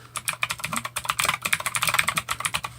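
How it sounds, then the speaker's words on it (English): Rapid, uneven clicking of a mechanical keyboard being typed on, crisp and close, with bursts of keystrokes and brief pauses and no voices. "Enjoy the click of that keyboard. Yeah, mechanical."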